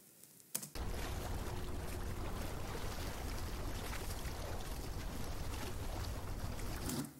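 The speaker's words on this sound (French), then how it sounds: "par exemple avec des petits clapotis" A steady, quiet wash of water lapping and splashing continues throughout, with a soft rushing texture and no voices.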